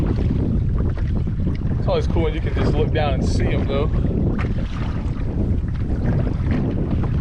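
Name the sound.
wind blowing on the water while kayak fishing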